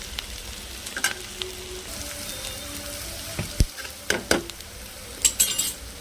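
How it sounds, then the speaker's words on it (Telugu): Ivy gourd (dondakaya) curry stir-frying on a low flame: a gentle, constant sizzle broken by sporadic spoon scrapes and light metallic clinks against the pan, close by and without speech. "దొండకాయ ఉడికేంత వరకు కూడా మనం సిమ్లో పెట్టేసి మధ్య మధ్యలో కలిదిప్పుకుంటా వేయించుకుందాం"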